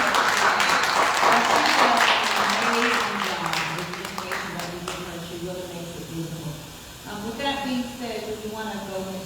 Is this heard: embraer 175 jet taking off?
no